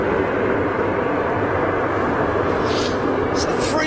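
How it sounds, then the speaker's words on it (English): Loud, continuous broadband roar of a British Airways Airbus A321neo jet at Manchester Airport, steady engine rumble dominating the scene with no breaks. "It's a 321 Neo with British Airways."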